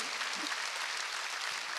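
Brief burst of steady applause from a church congregation at a prayer service, dense clapping throughout with no speech.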